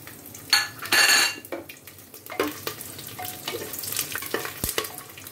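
Cardamom, cloves, cinnamon, dried red chillies, bay leaves, garlic and black peppercorns hit hot oil with a loud initial sizzle and spatter, settling into a steady crackling fry with occasional stirring and a pan clink.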